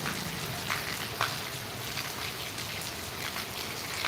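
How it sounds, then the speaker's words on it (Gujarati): Heavy rain with large drops pours down in Gondal, a steady dense hiss of falling water close by with a few sharper splashes standing out. "ગોંડલમાં અત્યારે વરસાદનું વાતાવરણ એકદમથી બદલાયું અને એકદમથી વરસાદ મોટા છાટે વરસાદ આવી રહ્યો છે"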